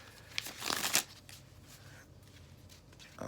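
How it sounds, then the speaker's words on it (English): Tarot cards riffle in a quick, crisp burst of shuffling, then quieter rustling and side-shuffle handling follows, close and alone. "do a couple side shuffles."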